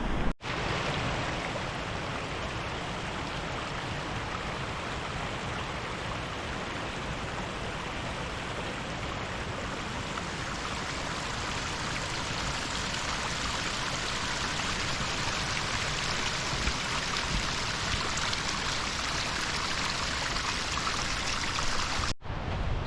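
A waterfall and stream near Ingleborough Cave roar steadily and loudly, broadband rushing water filling the whole stretch without pause, with no voices over it.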